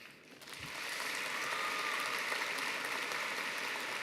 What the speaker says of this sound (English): And another round of applause to all of our friends who made these last couple years so special.